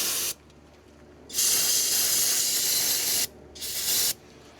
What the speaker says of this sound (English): So we're just gonna spray a little bit.